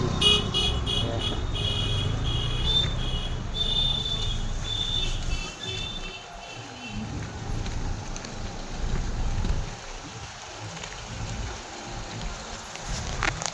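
Car horns toot repeatedly in a stalled road traffic jam in Pune, Maharashtra, short beeps scattered over a constant rumble of idling vehicles and rain or wind noise.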